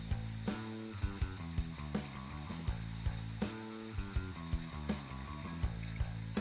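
Bottle washing and filling machinery at a Philippine alcohol plant, running as a loud continuous mechanical din with regular clanking beats and ratcheting clicks repeating steadily throughout.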